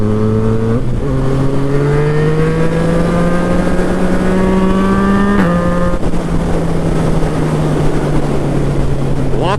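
A Yamaha FZ-09 motorcycle engine pulls hard through the gears, its rising rev tone climbing steadily with a brief shift dip, loud and close over constant wind rush.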